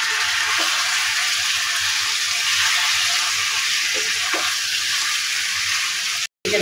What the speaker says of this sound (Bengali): তো চিকেনগুলো দিয়ে আমি ভালোভাবে নেড়ে দিচ্ছি।